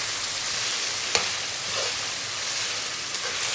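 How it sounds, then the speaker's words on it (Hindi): Green chillies and onions frying over a high flame for a chicken ginger handi, a continuous close sizzle with a couple of brief utensil knocks against the pot. "अच्छी तरह हम हरी मिर्चों को और प्याज को भी फ्राई कर लेंगे।"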